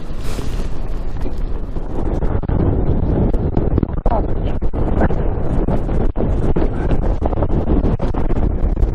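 Strong, buffeting wind blasts across a microphone on the exposed Great Dodd summit in the Lake District. The roar is loud and constant, with gusty rumbling throughout.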